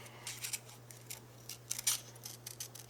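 Large scissors being picked up and handled at a craft desk, giving a series of light, crisp metallic clicks and snips over a faint steady hum, close and fairly quiet.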